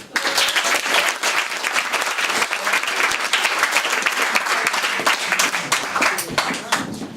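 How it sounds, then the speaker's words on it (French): A crowd inside a gymnasium gives sustained, vigorous applause for a performer, many hands clapping at once in a loud, continuous roar with scattered sharper claps over about seven seconds. "applaudissements pour Murphy."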